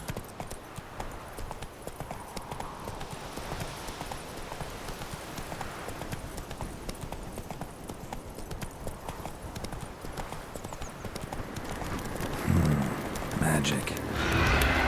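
Roach, the horse in The Witcher 3, galloping with a steady rapid clip-clop of hooves over a rain-like ambient hiss, and a brief louder burst near the end.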